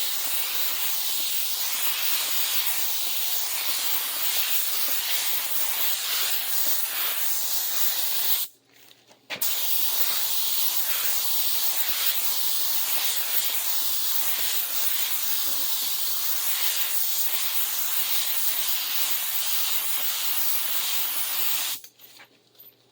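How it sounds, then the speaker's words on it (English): Clear PVA mold release sprayed onto melamine in a steady, loud hiss that runs continuously for several seconds, breaks off briefly, then resumes before stopping near the end. "Okay, so it sprayed a few layers of PVA."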